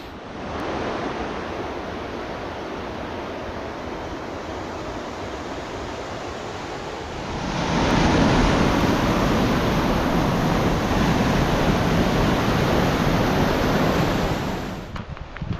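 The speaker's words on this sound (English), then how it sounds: "there's a beautiful waterfall that starts up about that snow drift and comes all the" Steady roar of a waterfall in Cascade Canyon in the Grand Tetons, falling from a snow drift down the valley, a broadband rush that swells louder midway and holds, with wind buffeting the mic and no talk.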